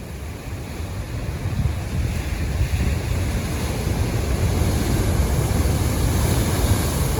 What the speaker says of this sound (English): by the water, it's really rocky and it creates these giant waves